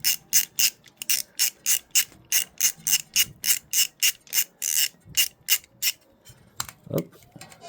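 A ratchet fitted with a 13 mm socket loosens the oil drain screw on a Moto Guzzi V85TT motorcycle, giving a close, crisp run of about two dozen rapid clicking strokes in a steady rhythm before stopping.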